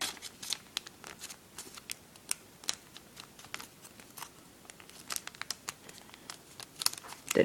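Origami paper being folded for a swan, a run of soft crisp crinkles and sharp creasing taps, close and quiet, with no voice over it.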